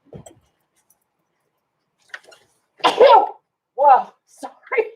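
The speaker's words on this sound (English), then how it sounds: "I'm going to sneeze, you guys." A single loud sneeze bursts out near the mic, preceded by a short inhale and followed by a few breathy gasps and small vocal sounds, in a quiet room during a craft session decorating a handmade journal.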